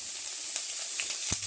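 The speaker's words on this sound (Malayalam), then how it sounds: "ഈ സവാള ഇട്ട് കൊടുക്കണം. സവാള നല്ല മൂത്ത് നമ്മൾ തക്കാളി എല്ലാം കൂടെ ഇട്ട് കൊടുക്കണം." Sliced onions sizzle softly in hot oil in a pan, a faint, even hiss broken by a couple of light clinks near the end, with no voices.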